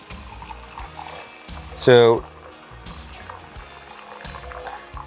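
Coffee pours from a moka pot outdoors as a brief liquid trickle under steady speech, with a short, louder gurgling rise near the middle.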